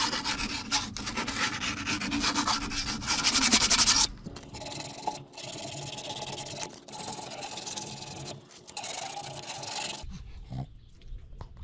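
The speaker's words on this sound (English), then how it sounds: "I'm going to clean up these edges with a little sandpaper" Sandpaper rubbing the cut edges of PVC pool pipe, a steady close rasping scrape running in continuous strokes, stopping abruptly near the end.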